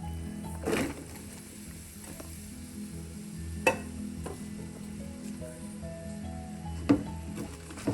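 Sliced onions frying in a pan for chicken curry with curry leaves, a steady low sizzle, with a few sharp scrapes and clinks as they are stirred, close and with no talking.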